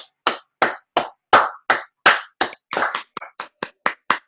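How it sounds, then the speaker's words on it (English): Applause for a trainee at a trading class: about fifteen sharp, distinct hand claps in a quick, slightly uneven rhythm, close and clear against silence. "So everybody give Donnie a round of applause"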